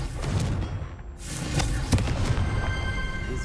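Confringo fire-blast spell explosions in Hogwarts Legacy, several booming thuds and bursts in quick succession, loud and close over busy combat noise, with a sharp hit near the two-second mark.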